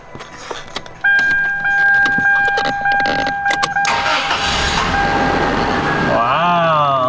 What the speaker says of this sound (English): Let's start the car, see if we get some brake assist.